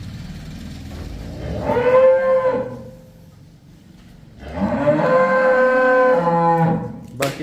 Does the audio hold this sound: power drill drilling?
no